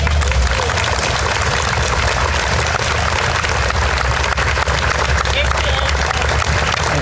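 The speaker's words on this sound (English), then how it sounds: "if we could get a round of applause for Sawyer Caproni." A crowd applauds at a Hometown Hero banner reveal ceremony, a dense, loud, continuous wash of clapping that holds steady throughout, with low rumble beneath it.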